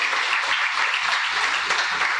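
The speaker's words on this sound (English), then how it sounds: "Can we give them a round of applause?" An audience at a long service award ceremony gives award winners a round of applause, the dense clapping loud, even and continuous throughout, with no speech over it.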